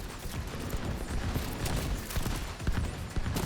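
Rapid gunfire shooting oxidizers in The Division at the Kenly College farm, a steady stream of sharp shots over a busy, loud background with no pauses.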